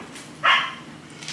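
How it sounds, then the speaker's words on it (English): A dog gives a single sharp bark at mid distance in a home, a short burst that stands out above a quiet background, with a fainter yelp near the end. "If you can hear Ziggy barking in the background"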